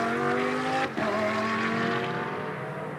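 A GT race car in a Blancpain Sprint Series practice session at Moscow drops downhill into a left-hand corner, its engine a loud, steady harmonic drone with a brief dip as it shifts, continuous throughout.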